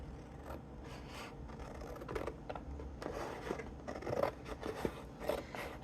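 Scissors snip across craft material in a series of quiet, close cuts and faint scrapes, with no talking.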